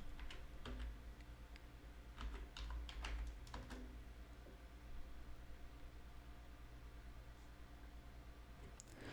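Typing on a computer keyboard while entering a search into a field, faint clusters of quick key clicks in short bursts over a quiet background hiss.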